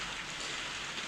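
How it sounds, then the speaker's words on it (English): Steady rain falling outside a conservatory, a dense, even hiss of drops on the glass and roof, fairly loud and continuous with no pauses. "it's starting to rain"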